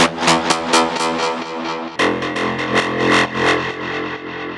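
An acid techno synth line in a Drumcode style pulses in a fast, repeated rhythm, its distorted tone shifting mid-phrase as the FM modulation and wavetable position are tweaked, loud and alone.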